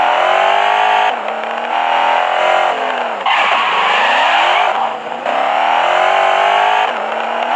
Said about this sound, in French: Le bruit de la voiture, je vais arrêter la radio.